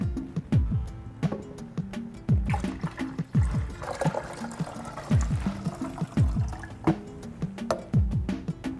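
Water poured while making strawberry basil lemonade in a kitchen, a run of splashing, trickling pours with drips, close and moderately loud, with no talking.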